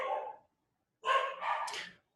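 Dogs give a few close, sharp barks: one short yap, a pause, then two quick barks back to back, with no talk.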